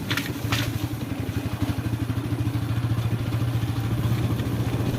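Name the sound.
motorcycle riding on a bad rain-damaged road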